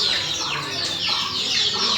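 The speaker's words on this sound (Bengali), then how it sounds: "অরিজিনাল দেশি মুরগির বাচ্চা।" Month-old desi chicken chicks on a native poultry farm, a flock peeping and clucking in a continuous busy chorus, close and loud, with no talk over it.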